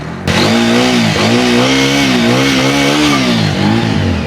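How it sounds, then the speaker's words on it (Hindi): A TVS Apache 200 4V motorcycle engine catches and settles into a loud, steady idle close by, its low throb wavering slightly in pitch throughout with no voices. "अब एक बार साउंड दोनों का ही सुन लेते हैं, तो इसके लिए हमें गाड़ी को स्टार्ट करना पड़ेगा"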